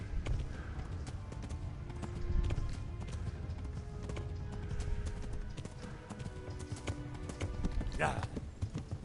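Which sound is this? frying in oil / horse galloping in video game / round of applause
horse galloping in video game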